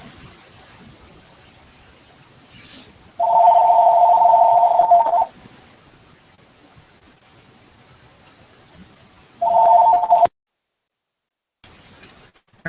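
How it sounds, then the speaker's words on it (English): Telephone ringing indoors, two long electronic rings separated by a quiet gap, loud and clear against a low background. "I didn't need you guys to have to tolerate the ringing phone."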